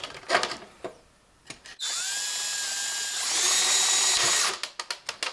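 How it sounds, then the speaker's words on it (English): A power drill bores through a part of a garage fridge during a heater kit install, running as a steady, rising whine for about three seconds, framed by short knocks and clicks before and after. "probably not the best drill bit to use, but it worked"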